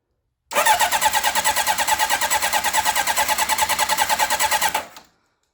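A 40-year-old motorcycle engine cranks in a fast, even train of loud, close pulses for about four seconds, then cuts off abruptly into silence.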